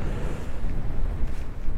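Wind blows around a tent pitched in a fairly sheltered spot, a loud, rumbling buffet of gusts against the fabric and microphone, steady with small surges.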